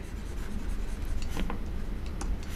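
Marker or chalk scratches and rubs close up as maths is written out on a board or paper, soft continuous strokes with a few sharper taps, no talk.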